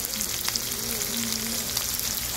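Korean beef tripe (gopchang) grilling, a steady dense sizzle and crackle with a few sharper pops, close and continuous with no talk.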